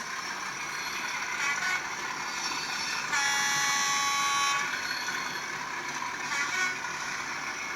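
A steady whirring rumble of a small model Class 37/7 diesel locomotive with DCC sound running along track, continuous throughout, with a brief higher-pitched rise in the middle.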